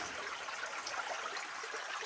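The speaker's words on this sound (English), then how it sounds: "There's some water coming through." Water trickles steadily and softly through an abandoned underground mine, a continuous faint wash with no voices.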